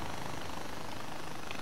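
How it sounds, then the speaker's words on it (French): A small helicopter flying in Far Cry 4, a steady continuous rotor and engine drone, moderately loud and unbroken, with no speech over it. "j'aime bien ce sorte de petit hélico ou je sais pas comment on appelle ça"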